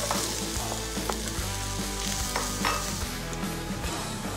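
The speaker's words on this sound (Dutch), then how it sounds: "Spek is aan het bakken met onze noten." Bacon sizzles and fries in a pan together with nuts, a dense, steady crackle with small pops close by and no voices.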